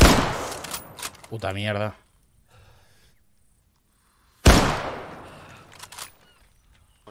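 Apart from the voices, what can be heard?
gunfire during a shooting training exercise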